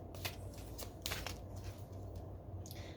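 Tarot cards being shuffled by hand close up, a series of quick riffling bursts with soft papery flicks in between, no voices.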